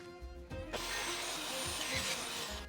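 A saw rips a 6-inch wood board into 2.5-inch strips, starting with a brief motor whir, then a loud, steady cutting whine through the wood that holds for a couple of seconds before the blade runs down.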